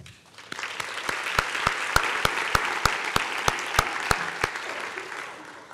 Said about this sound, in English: we should give all the candidates a large round of applause for their incredible work